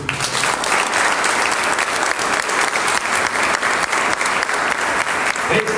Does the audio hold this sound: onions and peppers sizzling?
no